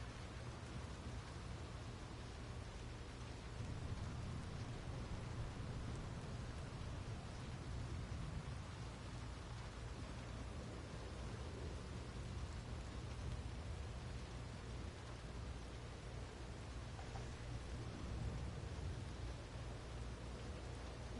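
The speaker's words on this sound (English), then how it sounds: "It's a whole lightning storm." Thunderstorm in Red Dead Redemption 2, steady heavy rain hiss with low rolling thunder rumbles, continuous and enveloping with no voices.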